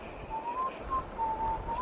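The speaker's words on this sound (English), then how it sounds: "shut up that whistling" A person whistles a thin, wavering tune in short phrases inside a farmhouse, fairly near and alone without talk.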